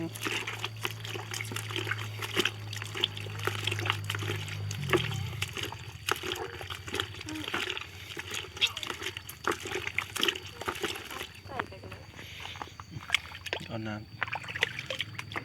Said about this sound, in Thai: ใส่น้ำลงไป